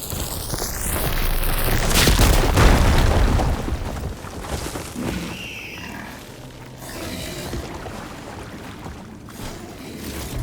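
A firegleam blockage blows apart in Horizon Forbidden West: a loud, deep explosive boom with rumbling debris that swells over the first few seconds, then settles into a quieter crackling, shifting game ambience.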